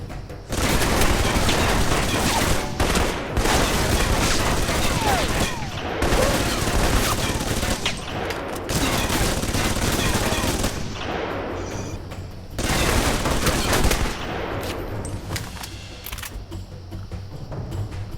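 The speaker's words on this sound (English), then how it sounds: "Apparently I have an assault rifle." Assault rifle gunfire in the video game Alpha Protocol, dense rapid bursts of shots and booms filling most of the stretch with brief pauses, loud and close.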